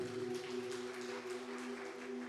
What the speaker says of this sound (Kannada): ಜೋರಾಗಿ ಒಂದು ಚಪ್ಪಾಳೆ ತಡೋಣ.